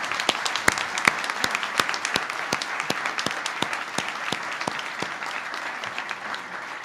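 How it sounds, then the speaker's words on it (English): Large audience at a community college summit closing session applauding steadily, a dense wash of clapping with a few sharp nearby claps standing out, continuing throughout. "can we have a huge round of applause for Dr."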